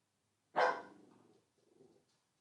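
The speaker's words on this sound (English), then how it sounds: "Sorry, my dog's gonna be barking here in the background." A dog barks once loudly, close by, and a few quieter yaps follow after a short pause, all in an indoor room.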